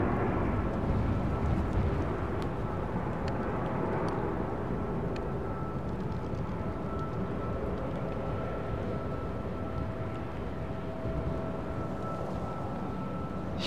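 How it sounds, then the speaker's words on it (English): A Boeing 787 Dreamliner departing Heathrow's runway 09R produces a steady, moderately distant broadband jet roar that holds evenly throughout with no talking. "There's Dreamliner."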